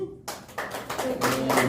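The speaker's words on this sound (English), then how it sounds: "are there football fans here? Round of applause." Scattered applause from a small audience at a stand-up comedy show in a brewery, short patchy claps mixed with voices talking over them.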